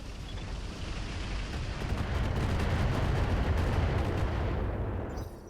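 Weapons fire from a mech in the RogueTech mod of the BattleTech video game, heard as a sustained, heavy, rumbling barrage of artillery-like blasts that swells, holds, then fades at the end.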